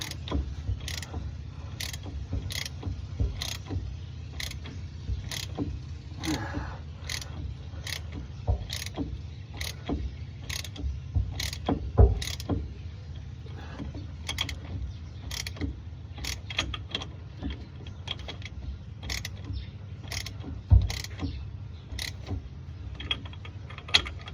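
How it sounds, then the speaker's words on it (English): Pinion nut on an Isuzu Hilander axle turning with a rapid, regular ratchet clicking that runs throughout, close and mechanical, with a few heavier metallic clunks and no talking. "I don't think there's enough tension on that nut. It's just turning too easy."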